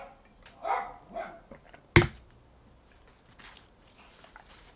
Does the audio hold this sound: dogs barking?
yes